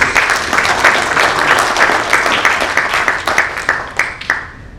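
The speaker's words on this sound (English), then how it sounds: "join me in a round of applause for all our sponsors" An audience at a company awards night applauds, a dense wash of many hands clapping that holds steady before thinning and fading toward the end.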